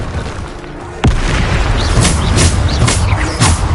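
Spell explosions from Bombarda in Hogwarts Legacy: a sharp booming blast strikes after a quiet second, followed by a dense run of loud bursts and crackling debris, with several more thumping impacts through the rest of the fight.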